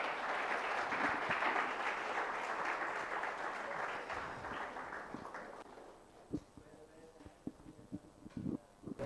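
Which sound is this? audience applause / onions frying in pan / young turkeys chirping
audience applause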